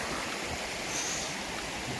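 Steady rushing water, a constant broadband roar of a fast mountain river flowing nearby, with no voices.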